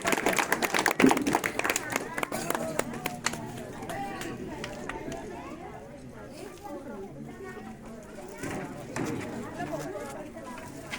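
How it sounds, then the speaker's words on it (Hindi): Applause at a community corner meeting about education loans, scattered claps from a gathered crowd mixed with ongoing chatter and voices, uneven and moderately near, tapering into talk. "मैं चाहता हूँ जोरदार तालियां बजाएं आसिफ भाई के लिए"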